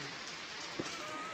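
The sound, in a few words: rain falling in village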